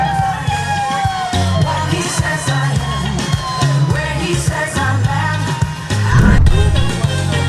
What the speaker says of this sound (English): Girls, clap, clap.